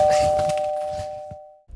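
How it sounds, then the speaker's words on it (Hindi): An electronic doorbell rings with a steady sustained tone, loud and close, fading away before a brief thump at the end; no one speaks. "जैसे ही हम पीछे की खिड़की से बाहर निकल रहे थे तो डोरबेल कंटिन्यूअसली बज रही थी।"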